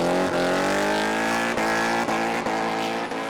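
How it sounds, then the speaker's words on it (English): A BMW E36 drift car with a swapped M5 V8 roars loud and close on the Fermoy track, its engine note climbing steadily through a gear, then stuttering with brief cuts as revs bounce, all with no voices. "M5 V8 powered E36 thundered around the Fermoy track"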